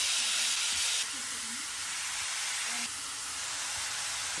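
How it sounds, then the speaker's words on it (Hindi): Radish pieces tipped into hot oil with cumin give a steady, broad sizzling hiss that drops slightly in level partway through, with faint voice murmurs underneath. "इसमें तेल डाला, जीरा डाला और ये मूली डालेंगे और साथ में मसाले डालेंगे बस"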